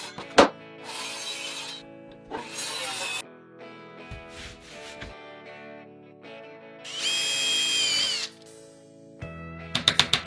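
A power drill drives fasteners while 9.5mm black pine plywood is laid on the roof of a camper built on a pickup truck: several separate short bursts, close and fairly loud, with quiet pauses between them.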